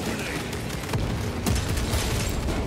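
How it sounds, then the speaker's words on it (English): Grenade blasts in Warhammer 40K Space Marine 2 erupt in a dense, continuous co-op battle din, with sharp booms near 1 and 1.5 seconds standing out against sustained gunfire and combat noise. "Just grenaded those bitches"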